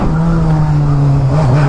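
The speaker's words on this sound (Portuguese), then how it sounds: "esse barulho sem catalisador é uma delícia" Loud, steady engine drone of a Honda Hornet motorcycle with its catalytic converter removed, holding a low idle-like pitch with slight rises and dips throughout, close by and with no talk over it.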